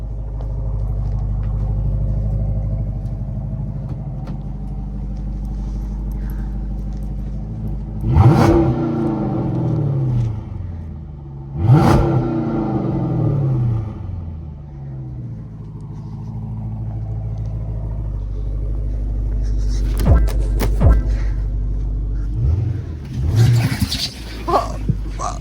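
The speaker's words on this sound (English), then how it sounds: "Give her a rev." A car engine idles with a low rumble, then revs sharply twice in strong bursts that fall away, followed by more smaller revs near the end, loud and close, with occasional voices.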